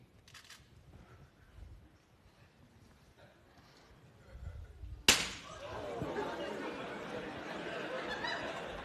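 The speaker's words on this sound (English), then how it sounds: "Students love it when the glass breaks." Glass shatters suddenly in a physics demonstration, a sharp loud crash followed by a lingering crackle and tinkle of fragments, after a stretch of quiet room sound and faint voices.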